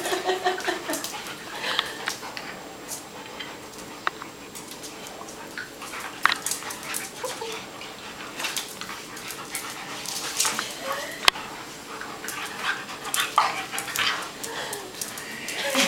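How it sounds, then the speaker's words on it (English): Two dogs, one small and one big, wrestling and playing, with panting, snuffling, small yips and whimpers close by while people talk over the romp throughout. "Usually when Buster plays like this with big dogs, he comes up like, just like soaking wet"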